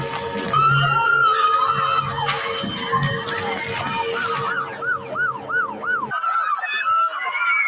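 An attack warning siren sweeps up and down in loud wailing cycles over busy background noise, cutting out abruptly near the end as people react.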